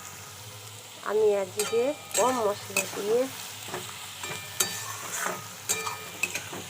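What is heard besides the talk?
onions frying in a pan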